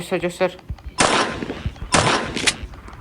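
Two loud, close gunshot blasts ring out in the horror video game Granny 2, each a sharp burst with a decaying tail, preceded by a brief voice.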